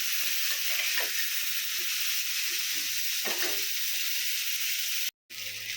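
Spices frying in oil for a dal tempering, a constant bright sizzle that runs steadily with soft stirring knocks underneath, briefly cutting out near the end.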